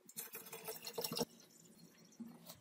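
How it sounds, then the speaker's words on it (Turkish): Bottled drinking water pours into a jar packed with grapes for homemade vinegar, a close gurgling splash that stops abruptly, followed by quieter drips and trickles. "Şimdi hazır içme suyuyla dolduruyorum."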